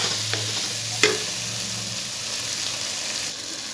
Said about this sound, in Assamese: এতিয়া বৰ্তমান মই এইখিনি মছলা দি এনেকৈ এইখিনি ভাজি ল'ম।